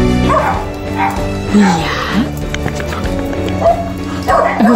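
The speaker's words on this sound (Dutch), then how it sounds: "Hij is een vervelende puppy." A puppy barks and yips in quick, repeated bursts close by, with occasional whimpers. A person speaks briefly in Dutch.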